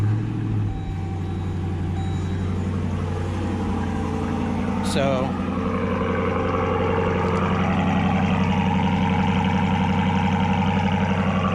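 A 2020 Dodge Durango R/T with a Borla S-type exhaust cranks briefly and then settles into a steady, deep idle nearby, with a short spoken word near the start.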